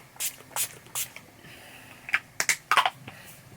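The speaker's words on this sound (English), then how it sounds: "I'm just going to use the setting spray" Makeup setting spray misted from a pump bottle, three quick evenly spaced hissing spritzes, then a cluster of sharper bursts and clicks, close and fairly quiet.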